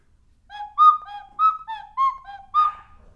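A small rock whistle blown in a quick run of about eight bright, warbling chirps, each rising and bending in pitch, loud and close with no talking.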